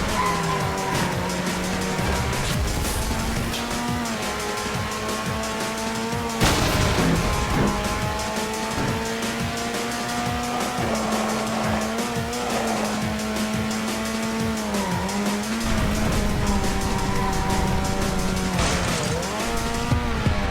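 Racing cars in the video game Heatwarped, engines droning steadily with rising and falling pitch as they shift, tires squealing and skidding through corners, loud and continuous for the whole stretch with no talking.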